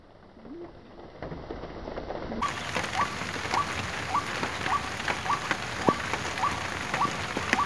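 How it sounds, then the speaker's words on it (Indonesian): Steady rain falls outdoors and grows heavier after a couple of seconds into a dense, even patter, while short bird chirps repeat at regular intervals over it. "Sekarang hujan lagi."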